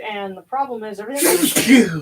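A single sharp sneeze bursts out right after a few spoken words, loud and close.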